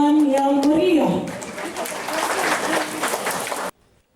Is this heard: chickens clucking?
no